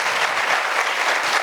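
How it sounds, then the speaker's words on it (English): Steady, dense applause from a conference audience at a developer festival in Ahmedabad, a continuous wash of clapping heard close and fairly loud with no voices over it. "you can give a round of applause to that"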